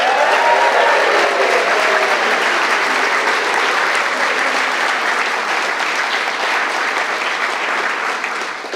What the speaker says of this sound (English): Can we get a big cheer for all of our speakers today?